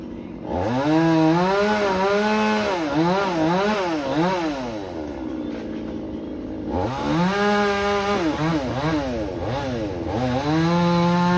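A chainsaw cutting trees roars continuously, its pitch rising and falling as the engine revs, with a brief dip in the middle before it climbs again.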